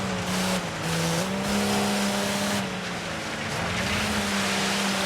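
Race car engine in Dirt 5 driving through a quarry, a continuous loud droning rev with shifting pitch and gritty road noise, no voices.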